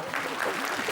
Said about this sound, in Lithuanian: Tai ir plojimas.